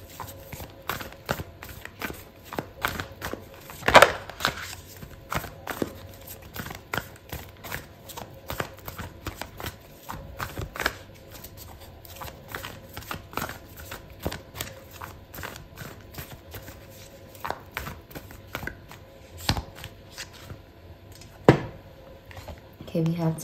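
Oracle cards being shuffled by hand, a soft papery riffling and patting that goes on in irregular bursts, faint and close, mostly under a person talking.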